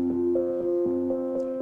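A Sonic Pi code loop plays randomly chosen synth notes with rests between them, bright sustained electronic tones changing pitch every few tenths of a second over a steady drone, clean and unaccompanied.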